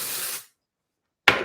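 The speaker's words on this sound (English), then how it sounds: "But I'm going to spray" Hair spray misted onto curly hair, two short hissing bursts from an aerosol, close and fairly loud, separated by a second of silence.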